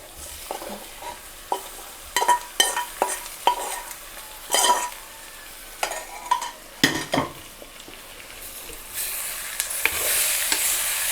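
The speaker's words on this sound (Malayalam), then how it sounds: "നന്നായിട്ട് ചൂടിലിങ്ങനെ ഇളക്കി കൊടുക്കുക" Prawns and potatoes stirred in a hot pan while roasting, with sharp irregular scrapes and knocks of a spoon against the pan over a soft background sizzle that swells near the end.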